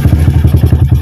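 A Yamaha LC135 motorcycle engine idles right after starting, a loud, close, rapid low thumping pulse with a rattly edge, running steadily and unaccompanied.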